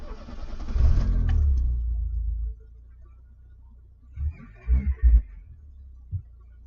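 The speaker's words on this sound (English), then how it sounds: "So let's give it a crank and see how we go." A car engine cranking with a newly fitted 36-6 crank trigger wheel: a loud, close starter churn lasting over a second, then quiet, followed by a few short uneven bursts of engine noise.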